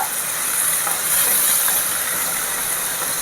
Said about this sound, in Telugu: మీడియం ఫ్లేమ్ పెట్టుకొని బాగా కలుపుతూ ఫ్రై చేస్తాము